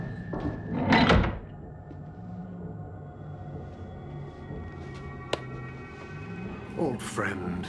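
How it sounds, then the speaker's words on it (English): A door closing in a TV series scene, with a heavy sliding thud near the start, then quiet room tone, a sharp click midway and a voice speaking near the end. "Close the door."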